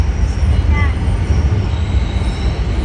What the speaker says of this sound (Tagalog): May LRT pa dito.